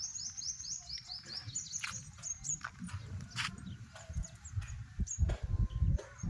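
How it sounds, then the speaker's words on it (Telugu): Near a hillside, birds chirp and tweet in quick, bright bursts, densest at the start, over rustling and scattered thumps, with no talking. "ఇంక ఇటంతా పక్షులు అరుస్తూ ఉంటాయి అన్నమాట."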